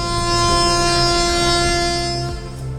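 A passenger train bound for Bengaluru airport sounds its loud, sustained horn up close, a steady multi-tone blare that runs almost unbroken over the rumble of the rail cars.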